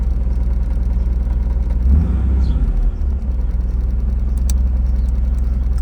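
A Nissan 300ZX engine turns over and settles into a steady, close, low idle hum, with a brief surge in the middle and no voices.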